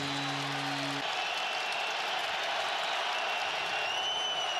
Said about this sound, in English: Crowd trying to create a spark for this defense